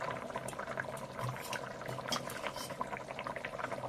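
Fish curry bubbling gently in a pot, a soft continuous simmer with faint liquid pops and crackles, steady and close with no talking.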